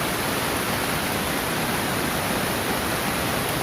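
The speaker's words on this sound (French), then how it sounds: "pour vous dire que là il pleut." Rain falls outdoors as a dense, even hiss with no breaks or individual drops. It stays loud and constant throughout, with no voices.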